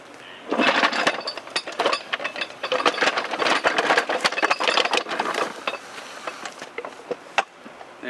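Vintage push lawn mower running nearby in a yard, a busy rattling mechanical clatter with rapid irregular ticks, fairly steady and moderately loud, no talk.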